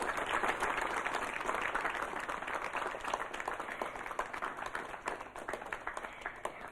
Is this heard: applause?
yes